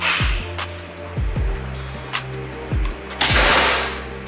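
Gousuto Oria V2 air rifle shots go off close by, several sharp cracks a second or so apart, each ending in a short low thump, one louder burst near the end.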